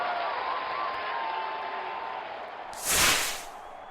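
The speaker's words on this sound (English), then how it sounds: "Crowd going mad here." A cricket video game crowd roars steadily throughout, swelling into a brief louder burst of cheering and applause near the end.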